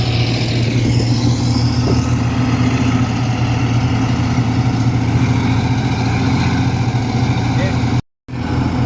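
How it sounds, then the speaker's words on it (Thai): A tractor engine runs steadily during a morning drive to work, a loud, constant low rumble with a droning hum that carries on without pause before a brief dropout near the end. "ไอหนุ่มรถไถซิ่งครับ"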